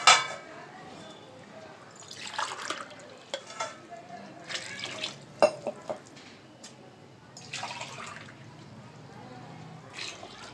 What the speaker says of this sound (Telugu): ఇప్పుడు వాటర్ కూడా వేసుకుందాము